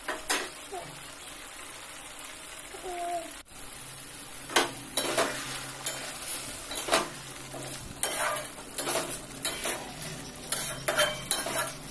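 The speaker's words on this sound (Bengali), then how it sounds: "ভালো করে একটুখানি নাড়াচাড়া করে নিচ্ছি যাতে তলা না লেগে যায়।" Spoon stirring Bengali-style egg curry (dimer kosha) in a pan as the gravy thickens, with repeated scraping clinks against the metal and a soft frying sizzle underneath, close and moderately loud, no talking.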